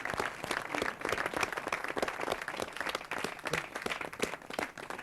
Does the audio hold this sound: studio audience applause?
yes